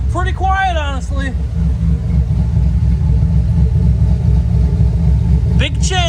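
A 6.2 truck engine with a newly fitted exhaust idles steadily and fairly quietly, a continuous low rumble that runs throughout, with a voice briefly over it at the start and end.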